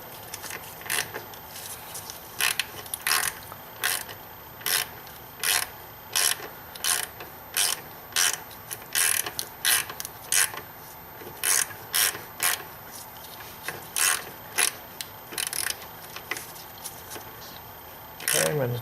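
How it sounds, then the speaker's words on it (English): A ratchet turns a swivel E-Torx socket on a BMW N52 inline-six oil filter housing, giving bursts of quick, close clicking strokes repeated steadily with short pauses between them. "So I can get that swivel E-torx in there and work that down."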